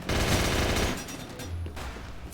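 Shotgun blasts in a competitive online shooter match, a loud dense burst of gunfire up front that thins into scattered shots and rumble, with no talking.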